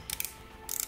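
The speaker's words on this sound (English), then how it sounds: "The bezel has a good feel with no back play, and just like the dial, it's made from aluminium." The rotating aluminium bezel of an Omega Seamaster Diver 300M watch is turned, giving two quick bursts of faint, close ratcheting clicks.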